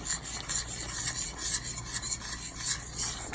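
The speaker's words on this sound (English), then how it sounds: "what we're gonna do is stir it around" Spoon scraping and stirring creamy garlic parmesan chicken in a pan, a steady rasping, rubbing texture with repeated strokes, close and fairly quiet, no talking.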